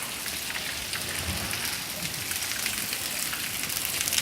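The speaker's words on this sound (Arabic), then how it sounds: "أمطار غزيرة على الرياض" Heavy rain falls in Riyadh. A dense, steady roar of downpour pounds on surfaces close by, keeps a constant level throughout and builds slightly toward the end, with no talking.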